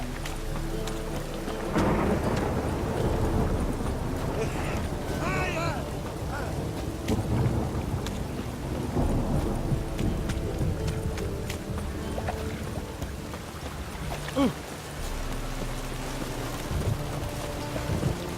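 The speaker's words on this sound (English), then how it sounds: "Let it rain." Rain pours steadily in the game The Witcher 3 while rolling thunder rumbles through it, loud and continuous with heavier swells along the way.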